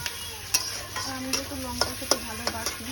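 Steady, quiet sizzle of onion, garlic and green chillies frying in a pan, marked by a series of sharp metallic taps and scrapes from stirring at close range, with no talk.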